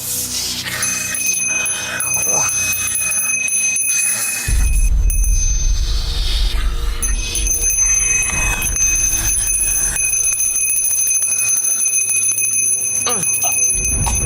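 A bell rings steadily, its bright sustained tones ringing throughout against a dark, rumbling dramatic backdrop, with no speech.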